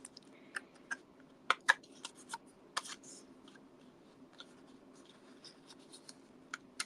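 Small die-cut paper pieces being poked out with a pick tool for a handmade card, giving sparse, faint ticks and light pops scattered irregularly against a quiet background.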